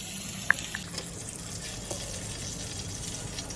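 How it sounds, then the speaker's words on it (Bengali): Silver cup fish frying in a pan in a home kitchen, a soft steady sizzle and bubbling of oil with a couple of faint clinks, fairly quiet and without talking. "এটা লাস্ট ভাজা।"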